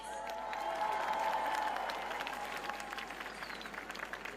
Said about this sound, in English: Give a round of applause, please.